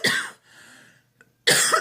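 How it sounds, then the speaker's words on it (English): Two harsh coughs, one at the start and one at the end, with a quieter breathy throat sound between them. "and even the cough's not as bad now"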